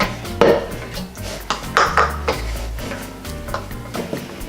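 Thick, sticky slime being stirred in a bowl with a utensil, giving irregular knocks, scrapes and squelches at close range, several sharper clacks spaced across a few seconds, no voices.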